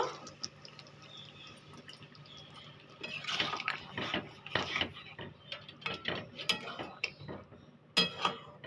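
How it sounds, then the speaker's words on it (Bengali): A little water poured into a cooking pan while making a vegetarian moong dal dish, faint clinks and splashy sizzles with scattered utensil taps, quiet and close, without speech. "এখানে আমি একটু জল দিয়ে দেব"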